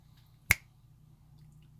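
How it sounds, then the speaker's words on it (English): A single crisp finger snap, close and sharp, standing out against near silence. "Ouch, that hurts when I snap my fingers."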